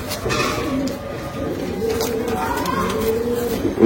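A desi pigeon of the Sambhal breed coos in soft, low repeated phrases, close by, with background noise and faint voices around it.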